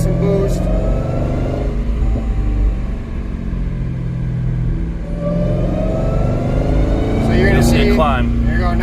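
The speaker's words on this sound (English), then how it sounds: "So I'll start giving it some boost." A turbocharged car on flex fuel ethanol being tuned under boost: a steady, loud, rumbling engine note that dips briefly and then rises into a revving climb near the end, with someone talking over it.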